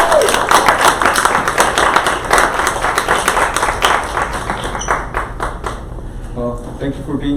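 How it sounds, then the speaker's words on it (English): A round of clapping from a gathering in Atlanta welcoming Dr. Gerry, close and uneven with individual claps standing out, thinning toward the end as voices and a few taps take over. "I want y'all to put a big round of applause."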